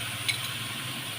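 Mushrooms in melted butter in a pan, a steady close hiss and crackle of frying with a brief sharper pop near the start.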